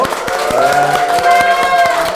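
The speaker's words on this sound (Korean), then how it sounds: "교수님께 우리 박수 한번 해주세요." Audience at a children's safety lecture clapping for the professor, a short dense round of applause with scattered sharp claps mixed with a few voices, close and fairly loud.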